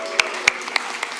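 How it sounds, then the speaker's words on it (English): A handful of separate hand claps ring out from the audience at a live developer conference session, sparse and fairly close rather than a full roar of applause. "I'd like to hear a big cheer for Patrick"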